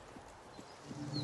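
Horse hooves clip-clopping in the video game Assassin's Creed Mirage, a series of soft, evenly spaced hoof thuds at a walking pace, fairly faint and close, with no talk.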